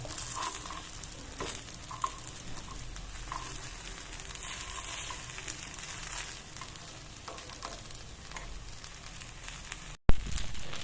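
Paniyaram batter sizzles and crackles steadily in a hot paniyaram pan on low heat, a continuous close frying hiss, ending with a short clunk.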